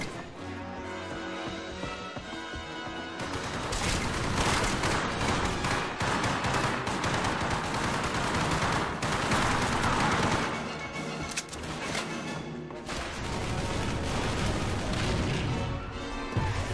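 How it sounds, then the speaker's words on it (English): MG42 machine gun fire in the World War II shooter Hour of Victory, a loud, dense stream of gunfire and crashing blasts running nearly the whole time, with a brief dip in the middle, mixed with other battle noise. "you can shoot that MG42 all you want now"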